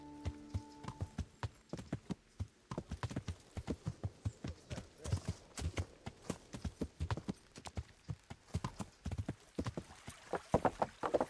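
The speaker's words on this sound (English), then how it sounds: "We'll take the horse because I'm so fat." Horse hooves clip-clop steadily at a trot in Kingdom Come: Deliverance, a dense run of close, distinct hoofbeats carrying through the whole stretch, with faint game ambience and no talk.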